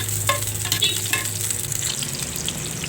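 Crushed garlic and sliced onion sauté in hot oil for adobong kangkong, sizzling steadily and close with faint scraping stirs, no voices.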